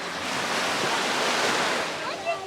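Ocean surf washes up a Jamaican beach where baby turtles are released, a steady broad hiss of breaking water rising and falling gently, with a faint voice near the end.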